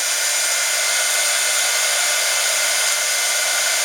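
Heat tool blowing steadily and loudly while melting clear embossing powder for a craft demo, a constant airy whir with no talk.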